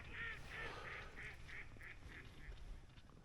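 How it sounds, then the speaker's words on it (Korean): A duck quacking at night beside a freshwater fishing spot, about eight evenly spaced calls in a steady rhythm, faint and at a distance against a low background hum. "저 오리 울음소리 되게 듣기 싫어."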